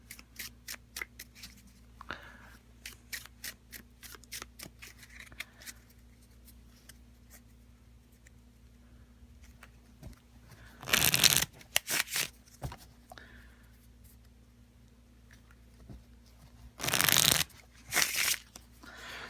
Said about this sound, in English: So I'm gonna do a quick shuffle.